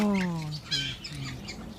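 Several birds chirp and call in short, bright bursts at close range in a small aviary or bird room, fairly faint, with low background noise.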